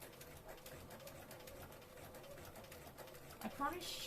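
A domestic sewing machine stitches fabric for a Regency dress, a quiet steady whirring run of needle strokes, with a brief clatter near the end and soft background sounds.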